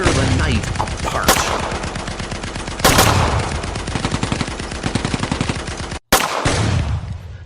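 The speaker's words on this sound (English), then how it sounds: "Suddenly, a shattering series of explosions tear the night apart." Radio-drama sound effect of a night attack on a monster: rapid machine-gun fire rattles loudly and continuously, punctuated by three sharp, heavy explosive blasts, the last after a brief dead gap.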